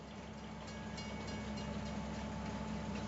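A train rolls along in Farming Simulator's Silverrun Forest map, hauling flatbed and wood-carrying cars toward a bridge: a steady, continuous low rumble with faint rail noise, holding even throughout with no voices.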